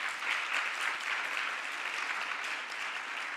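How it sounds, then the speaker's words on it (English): Audience applause for a choir at an evening celebration program, a dense, even roar of clapping lasting the whole stretch, fairly loud with no voices. "One more round of applause for them, please."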